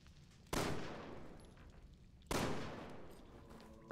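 Two loud gunshots in Resident Evil 6, about two seconds apart, each a sharp crack followed by a long decaying echo.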